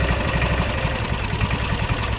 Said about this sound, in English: governor is doing nothing at idle, so that's good